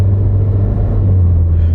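A GM car built by Toyota, with close to 100,000 miles, drives along with a steady, close-up low engine rumble from the cabin; no distinct gear change stands out and nobody talks.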